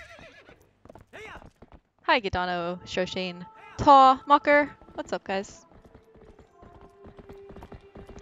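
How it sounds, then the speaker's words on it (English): Horse hooves clip-clopping in a galloping rhythm with loud whinnying neighs in the middle, a game-style horse soundscape, while someone talks over the start and end. "I figured, why not throw in a bit of, horse galloping ASMR at the beginning of my stream."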